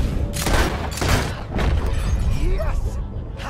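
Gunshots in the Red Dead Redemption 2 video game, a few loud sharp cracks with shattering and booming impacts, close and forceful, with voices talking briefly near the end.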